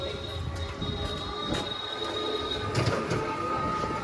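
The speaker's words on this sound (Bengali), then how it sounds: "আমাদের মেট্রো।" A Behala metro train passes at a distance with a faint, steady rolling hum, light rail squeal and a thin high whine, plus brief clanks, while a voice speaks faintly in the background.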